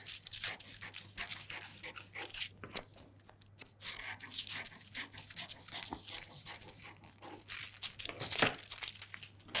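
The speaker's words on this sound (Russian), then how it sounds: "Вырезаю нагрудную выточку." Scissors cut a bust dart out of a paper dress pattern, making soft crinkling paper rustles and snipping crunches in an irregular rhythm, quiet and close, over a low steady hum.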